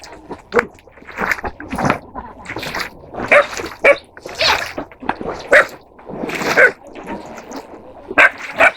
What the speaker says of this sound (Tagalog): May aso to.